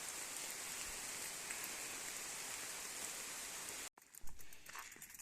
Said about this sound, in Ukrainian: а дощик іде гарний, не знаю чи надовго